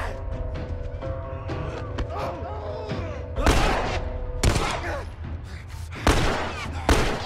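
Gunfire in The Last of Us video game comes as a handful of sharp, loud shots spaced a second or so apart over a busy bed of in-game noise.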